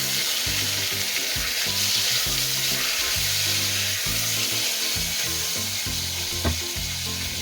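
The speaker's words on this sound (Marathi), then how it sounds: "यांना परतून घेऊया." Five medium-cut tomatoes fry in a pan, a continuous close sizzle broken by repeated bursts of stirring and scraping and one sharp clink, with no talking.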